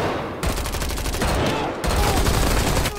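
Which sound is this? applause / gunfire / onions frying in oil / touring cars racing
gunfire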